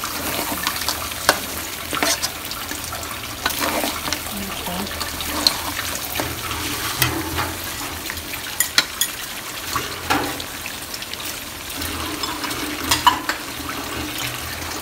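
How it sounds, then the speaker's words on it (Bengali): Meat frying in hot oil as it is stirred in a pan, a steady close sizzle broken by scraping and clinking strokes of the spoon that repeat every second or two, heard alone for a stretch of home cooking. "আমাদের গোশটা পুরো কষানো হয়ে গেছে, পুরো ভাজা ভাজা তেলে তেলে ভাজা ভাজা"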